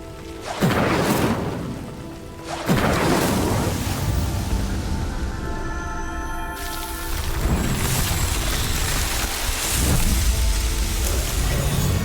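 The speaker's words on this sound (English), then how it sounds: "The flames make the pyre sink." Roaring fire bursts from an Incendio spell igniting a pyre in the Hogwarts Legacy video game, with two sharp whooshing flares followed by a sustained, loud crackling rumble.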